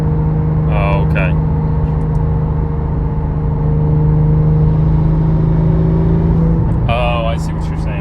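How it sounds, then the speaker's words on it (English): A Porsche GT3 engine drones steadily from inside the car with its exhaust valves closed, putting the intake sound forward, while people talk briefly over it. "You can hear the intakes better if I have the valves off."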